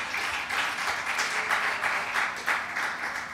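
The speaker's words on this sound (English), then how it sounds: "go ahead, clap for" Church congregation applauding during a Sunday sermon, a continuous moderate round of clapping with slight swells, lasting the whole stretch without clear speech.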